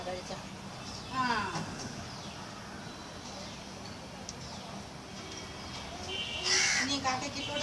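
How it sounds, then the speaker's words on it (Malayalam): Outdoors near a sit-out, a crow gives a couple of separate harsh caws, one early and a brighter one near the end, amid soft background noise and quiet talk. "കാക്കേ ഇതാ ഇതാ"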